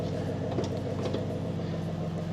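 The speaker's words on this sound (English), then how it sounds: "You can hear it there just ticking over." A Porsche Cayenne GTS 4.0 V8 engine idles through a quad exhaust with a steady, low rumbling burble, close by and unbroken for the whole stretch.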